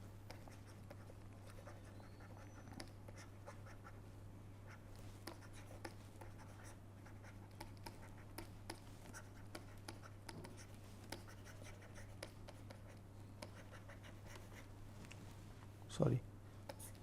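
Chalk or pen scratching across a board during a lecture on erosive burning theories, faint scattered strokes over a steady low electrical hum, with a brief louder knock near the end.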